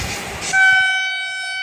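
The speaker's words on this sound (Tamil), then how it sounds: "ஸோ இங்கே பார்த்தீங்கன்னா ஒரு ட்ரெயின் வந்து விசில் அடிச்சு வருது." Train whistle near a railway track beside a village, heading toward Erode: rumble of the passing train, then a loud, steady multi-tone whistle blast that holds clearly for over a second.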